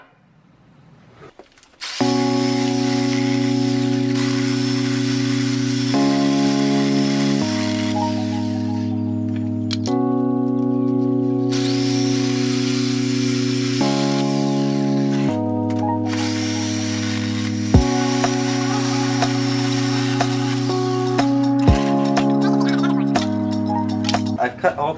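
A power tool cuts through the nails holding a wooden pallet together, giving a loud, steady whine that shifts pitch in distinct steps as the load changes, with a few brief pauses and clinks.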